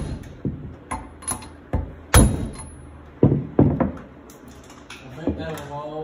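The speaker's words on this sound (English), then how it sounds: "so your method is a socket and a rubber mallet" A rubber mallet strikes a socket to knock valve collets loose on a Nissan RB25DET cylinder head during a teardown. About six dull, irregular knocks land close by in a small workshop.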